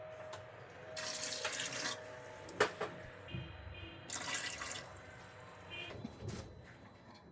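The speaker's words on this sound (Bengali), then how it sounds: "এখন ছোলার সমান সমান পানি দিয়ে নেব, বেশিও না আবার খুব কমও না" Water runs from a tap and is poured into a pot of spiced chickpeas in two steady bursts, with faint drips and clinks in between, close by and with no voices.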